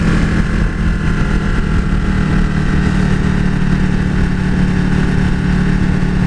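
A 2015 Ducati 1299S motorcycle engine running on its stock exhaust, idling close by as a loud, steady low rumble with no changes in revs over several seconds.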